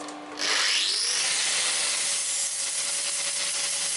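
Power sanding of a cut part during a workshop build of a trailer for a Babetta 210 moped: a steady, close, abrasive whir that starts abruptly after half a second and holds without pause, with no voices.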